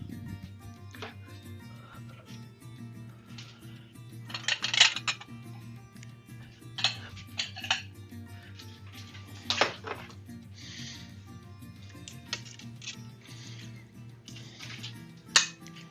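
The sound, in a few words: stirring boar and chestnut stew in a deep pot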